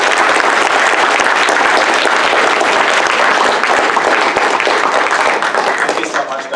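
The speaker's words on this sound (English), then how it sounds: "Give me a loud round of applause, please." Loud, sustained audience applause after a Hackillinois 2018 web data panel, dense steady clapping from a sizeable crowd that tapers slightly in the last second.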